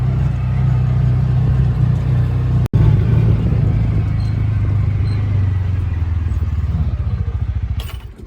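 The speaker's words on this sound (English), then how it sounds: "Back to the tractor." A 1963 A414 tractor with a 40 horsepower engine idles close by with a loud, steady low rumble and clatter, briefly cut off once, then settling into a rhythmic chugging near the end.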